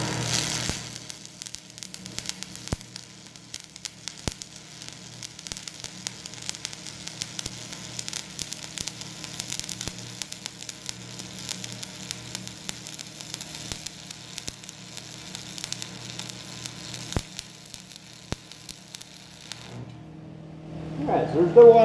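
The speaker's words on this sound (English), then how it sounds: "We're going to pull the weld along, so always pull it." Stick welding arc sizzling steadily as the rod is pulled along a steel plate, a continuous crackling hiss that holds for about twenty seconds before cutting off.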